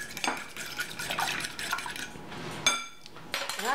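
A fork mixes fish seasoning in a dish, making quiet, quick clinks and scrapes against the dish in short bursts with brief pauses.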